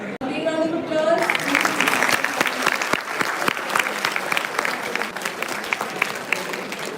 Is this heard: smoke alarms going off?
no